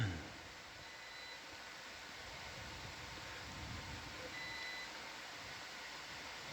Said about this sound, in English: Yes, we are working on the beeping.